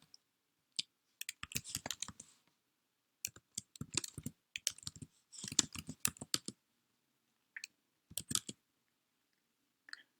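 Short bursts of typing on a computer keyboard as a cd command is entered in a terminal, quick close key clicks in uneven clusters separated by silent pauses, with no talking.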